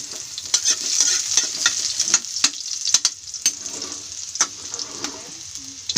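Garlic and onion sizzle steadily in a hot pan, stirred with a utensil that scrapes and taps now and then, close and fairly loud, with no voices.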